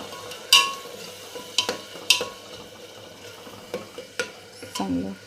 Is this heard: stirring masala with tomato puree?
yes